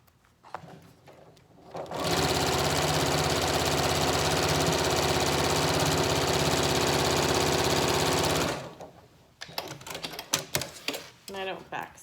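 A sewing machine stitches a Yup'ik qaspeq in one long, steady run of about six seconds, loud and close, with quiet handling noises before and after.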